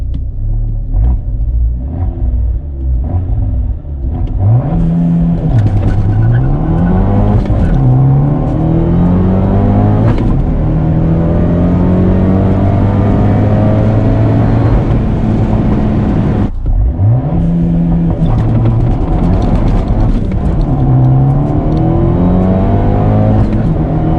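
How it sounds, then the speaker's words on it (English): A tuned car with an Air Compulsion 1446 Plus turbo, making about 220 wheel horsepower, launches hard. Its loud engine climbs steadily in pitch through the gears, then drops and launches a second time, with no talking. "the car pulls a lot harder than it did compared to when it was completely stock"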